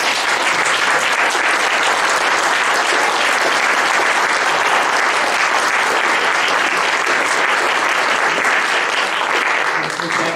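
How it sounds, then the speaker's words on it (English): Loud, dense audience applause at a 2019 Elgin candidate forum, sustained evenly for about ten seconds without pause, close and filling the room. "Let's have a round of applause for all of these."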